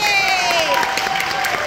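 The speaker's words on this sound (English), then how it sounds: "round of applause for those first timers" Audience applause and cheering for first-time volunteers at a church meal-packing event, a dense wash of clapping with a few high voices and whoops ringing over it, steady and fairly loud throughout.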